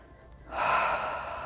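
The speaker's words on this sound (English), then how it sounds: "Just taking a deep breath" A person draws one slow, deep breath in, close and clear with no other sound, rising after a brief quiet start and holding steady to the end.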